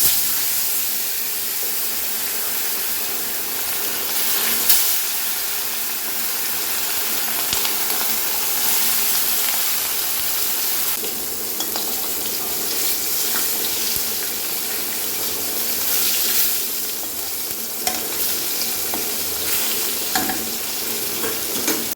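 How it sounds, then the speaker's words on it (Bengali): Fish fries in a pan of oil, a loud, dense sizzle that runs steadily for the whole stretch, with occasional scrapes and spits from stirring and no voices. "মাছ ভাজার পাশাপাশি সবজিটাও বসিয়ে দেব"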